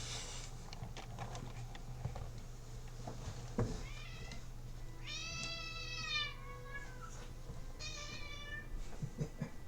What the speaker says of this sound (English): I am going to go let the cat out. She's getting into stuff she shouldn't be.